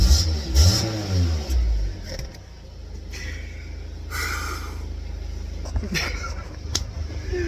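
A car engine, pushed two miles across town with a suspected crankshaft sensor fault, catches and revs loudly up close, then settles into a steady running drone while people talk nearby.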